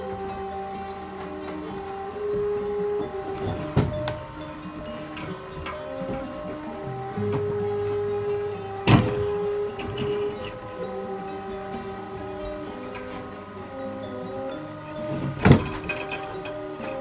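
A homemade wind turbine rotor fitted with strong magnets spins with a steady mechanical whir and hum, broken by a few sharp clicks and knocks, close and moderately loud.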